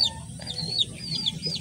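A mother hen clucks softly and repeatedly near her three young chicks, with high thin cheeps from the chicks throughout, close and moderately loud with no talk.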